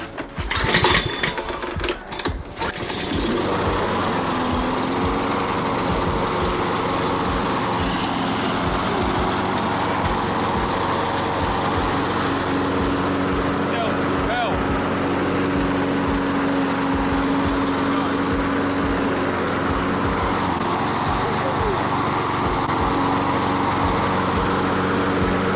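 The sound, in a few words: lawn mower engine running after being started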